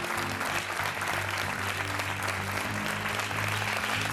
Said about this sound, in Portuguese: Por isso, venham de lá esses aplausos.